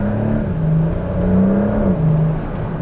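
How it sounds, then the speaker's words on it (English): Steady engine hum with a rising and falling whir layered on top, a Porsche running under load with a faint turbo spooling tone. "You can hear the turbo whir, or like the turbo spooling"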